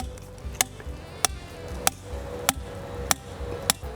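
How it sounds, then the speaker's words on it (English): Sharp, evenly spaced taps, about six in four seconds, as a 1-inch PVC pipe is tapped into the ground outdoors, each a bright click over a soft background hum. "I'm just gonna tap this into the ground"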